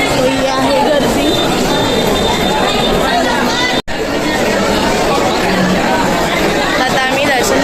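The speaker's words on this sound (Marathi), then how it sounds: "आहे गर्दी." Dense, steady chatter from a large crowd of pilgrims at the Ganagapur Datta temple, with many overlapping voices close by, loud and continuous, broken only by a brief cut in the middle.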